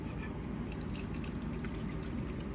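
Liquid poured off from a pan of taco pasta sauce into a sink, a steady close trickle and splash running without a break, with no talk.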